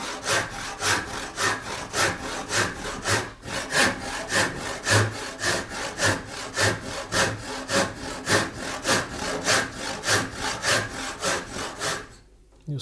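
Rhythmic back-and-forth strokes of a hand saw cutting through wood for a tenon joint, regular and close, with a brief pause near the start and a stop at the end.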